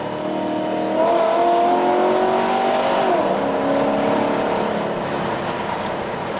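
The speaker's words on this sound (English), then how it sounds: "The quietest car with open headers with all the windows." A modified Chevy Caprice police car engine with open exhaust headers drones loudly and steadily, its deep rumble rising and falling slightly as it cruises, with no talking.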